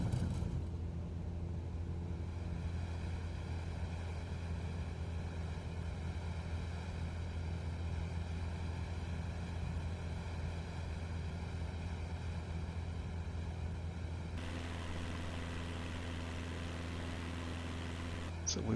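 A small Cessna propeller plane in a flight simulator, rolling down the runway and lifting off from Gibraltar: a steady, loud engine drone throughout that changes character near the end as the climb begins.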